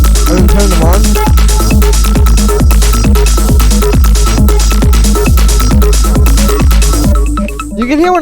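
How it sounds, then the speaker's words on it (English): Driving hypnotic techno loop with constantly moving percussion over a steady kick and sustained bass drone, busy hats and clicks filling the top, loud and continuous, thinning out near the end. "it just kind of adds a bit more energy to have these constantly moving percussions"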